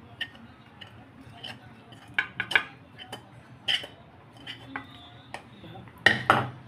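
Cooked flour dough being scraped from a pan onto a plate: scattered metallic clinks and scrapes of a utensil against metal, close but fairly soft, with a sharper cluster of knocks near the end over a quiet background.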